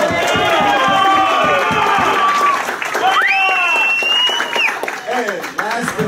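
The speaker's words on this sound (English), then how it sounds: "Hey, can we do one more round of applause for that one?" A crowd at a martial arts school grand re-opening applauds and cheers loudly, with steady dense clapping and whoops, including excited shouting from children, filling the indoor space.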